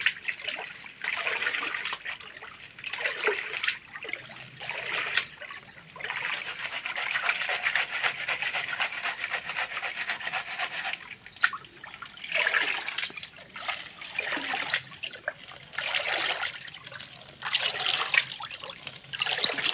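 Stream water sloshes and trickles steadily as a gold pan is tipped nose-down in a creek, washing the top layer of material off in repeated surging pulses, close and continuous.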